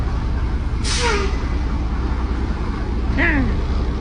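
Two sharp hissing bursts of air brake release on a truck tractor unit cut over a steady idling engine rumble, the second followed by a descending squeal.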